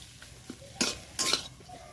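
Banana flower filling being stirred and sautéed in a pan (kadai): two brief bursts of spoon scraping and clinking against the metal, with faint quieter taps between, close and otherwise quiet.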